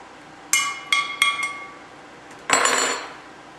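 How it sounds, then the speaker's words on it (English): A spoon stirs remineralizing drops into a glass of distilled water, giving four bright, close clinks in quick succession, a short pause, then a longer rattling clink against the glass. "Put it in there, and then basically stir, on a spoon"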